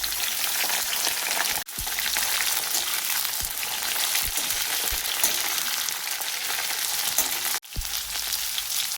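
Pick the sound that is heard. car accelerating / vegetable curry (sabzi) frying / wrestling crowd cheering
vegetable curry (sabzi) frying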